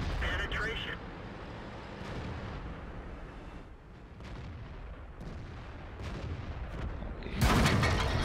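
Tank cannon fire from an AMX AC mle 1948 tank destroyer in World of Tanks, a heavy booming shot near the start and another loud blast at the end, over rumbling battle noise and a voice talking.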